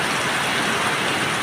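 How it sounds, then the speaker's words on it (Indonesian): Heavy tropical rain pouring down in front of a house, a dense, steady broadband hiss with no pauses, loud and close, without any voices. "di sini hujannya sangat deras dan membuat depan rumah"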